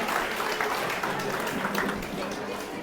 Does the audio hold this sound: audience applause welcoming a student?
yes